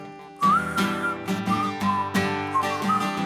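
A person whistles a tune, a steady melodic line with short phrases and glides, close and fairly loud over a sustained instrumental backing.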